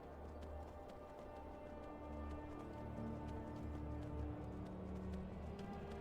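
Horse hooves clip-clop steadily in a video game, a quiet continuous run of hoofbeats beneath a low droning ambient music bed, with no talk.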